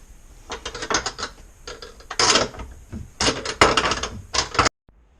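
A ratchet wrench works a bolt loose on a Sea-Doo personal watercraft during a tow hook install, giving several close bursts of quick clicking separated by short pauses, with no talking.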